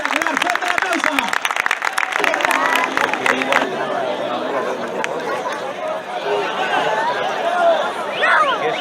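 A crowd at a bullfighting event claps in a dense burst that fades after a few seconds into general chatter and murmuring.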